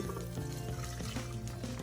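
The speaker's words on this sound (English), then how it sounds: "You're gonna wanna pour it into a bowl that you're gonna be able to use your mixer." Browned butter poured from a pan into a mixing bowl, a continuous close liquid splashing and filling sound that is fairly quiet and runs without a break.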